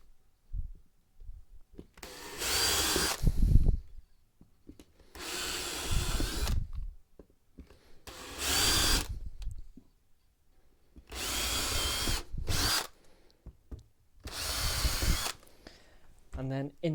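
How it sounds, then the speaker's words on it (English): A power drill drills holes in a wooden board, whirring in five separate bursts of a couple of seconds each, close and loud, with short pauses and some speech between them. "I'm going to take my drill and just drill some holes"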